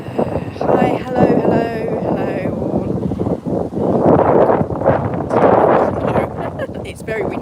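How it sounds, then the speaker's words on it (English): Steady blustery wind buffets the microphone in broad rumbling gusts while a person talks over it. "It's very windy here though."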